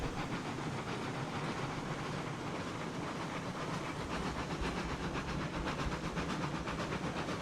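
Steady idling rumble of a steam locomotive in the Railroads Online video game, with continuous hiss and low mechanical chugging held close and even throughout, no voices.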